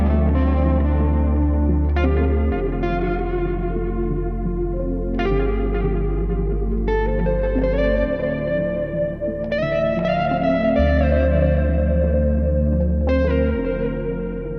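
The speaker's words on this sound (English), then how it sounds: "what was happening with the sound as I changed the parameters on the limiter" Music run through a Bettermaker Mastering Limiter 2.0 while its parameters are adjusted: a dense, effected track with a steady heavy bass line and recurring bright attacks, loud and continuous with no talking.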